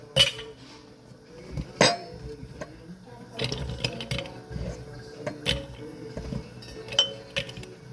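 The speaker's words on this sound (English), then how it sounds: "now we're going to pack the vegetables into the jars" Vegetables being packed into glass canning jars through a stainless steel funnel give scattered glassy clinks and clatters, close by and fairly quiet, with irregular taps spread through the scene.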